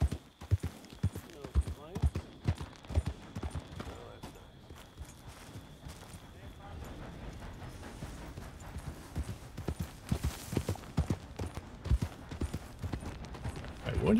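Horse hooves clip-clopping in Red Dead Redemption 2, a steady walking rhythm on the ground, moderately close, running throughout under voices talking.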